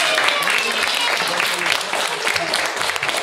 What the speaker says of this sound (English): Give those guys a big round of applause.